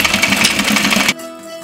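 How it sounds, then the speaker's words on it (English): Sewing machine stitching along the edge of petticoat fabric for an 18th-century costume: a loud, close, fast steady whir of the needle running for about a second, then cutting off abruptly. "Just stitch right along the edge."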